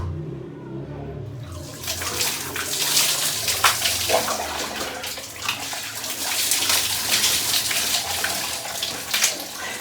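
Cold shower water pours steadily and hisses close by after a quiet first second and a half, a continuous broadband splash with small fluctuations running to the end.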